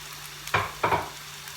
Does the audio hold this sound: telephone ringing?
no